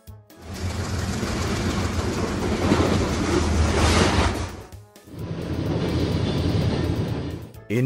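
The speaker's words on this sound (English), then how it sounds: "High-speed train." A high-speed train passes with a loud, sustained rushing roar and rail rumble, briefly easing before the noise returns, no voices present.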